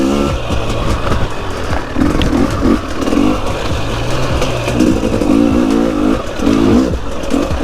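A KTM 250 XCW two-stroke dirt bike engine runs steadily in second gear on a track, its loud close buzz rising and falling in repeated revving surges as the rider works the throttle.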